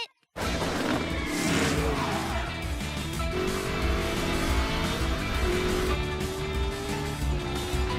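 Cartoon race cars roar and zip past in quick succession, with engine whine, tire squeals and a crash-like clatter under lively animated music, loud and continuous throughout.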